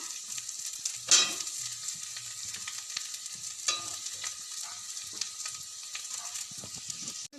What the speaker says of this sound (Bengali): এবার একটু সেদ্ধ করা আলুগুলো দিয়ে দেবো